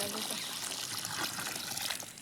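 Water poured from a container onto freshly planted brinjal seedlings in a field makes a soft, continuous trickle and splash, faint and steady throughout.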